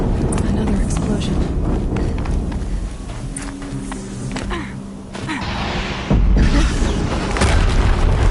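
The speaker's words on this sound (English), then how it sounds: "Another explosion." Deep booming explosions in the video game Horizon Zero Dawn roll through dense, continuous battle noise, with a heavier blast near the end, while voices talk over the action.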